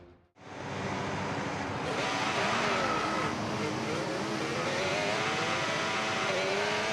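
Race cars in an F1 video game pull away from the grid onto the formation lap: a loud, continuous engine roar with gliding, rising and falling pitch, steady throughout after a brief quiet start.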